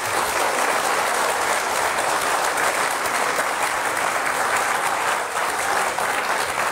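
Steady, dense audience applause from a seated crowd at a talk show, continuous even clapping throughout with no voices.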